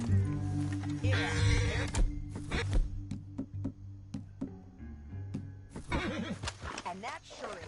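A horse in a PS4 video game neighs loudly twice, shrill whinnies at the start and end, with hooves clopping and scattered clicks in between.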